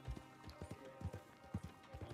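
Horse hooves gallop in Red Dead Redemption 2, a steady run of low, close thuds in quick repeating pairs that carry on through the whole stretch with no talk over them.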